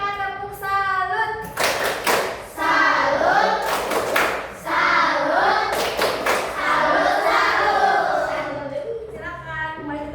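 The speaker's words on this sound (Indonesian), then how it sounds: "Beri mereka tepuk salut." Classroom applause from students after a group presentation, bursts of clapping and thumping on desks with a teacher's voice in the gaps between the bursts.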